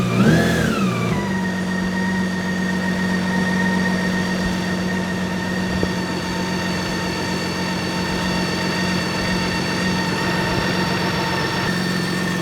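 BMW K1600B motorcycle engine in a garage blips up in a quick rev at the start, then settles into a steady, smooth idle with a loud, echoing, close hum and no voices.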